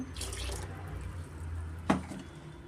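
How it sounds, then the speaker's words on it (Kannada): Water being poured into a pot of mung bean sambar, a brief splashing pour near the start followed by a single sharp clunk, with low background hum. "ನೋಡಿ ಫ್ರೆಂಡ್ಸ್ ಇನ್ನೂ ಸ್ವಲ್ಪ ನಾನು ನೀರು ಸೇರಿಸ್ಕೊತಾ ಇದ್ದೀನಿ"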